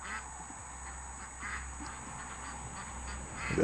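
Ducks quacking at an evening hunting spot, faint intermittent calls over a steady low background hum and rustle, without speech.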